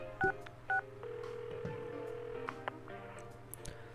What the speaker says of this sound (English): I dial Yosuke-kun's number.